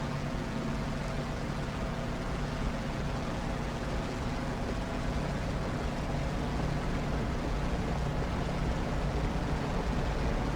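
Steady, loud drone of the F4U Corsair's radial piston engine at high throttle during takeoff in DCS World, a continuous broadband roar holding evenly throughout with no talk.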